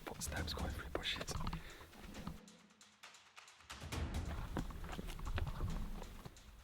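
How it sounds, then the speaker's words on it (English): Rustling footsteps moving through bushes in the woods, a crunchy irregular shuffle under whispered talk. "It sounds like footsteps going through bushes."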